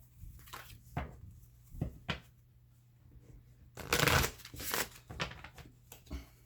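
Green Witches Tarot cards are shuffled close up in several quick riffling bursts separated by brief pauses, with one longer, louder flurry midway.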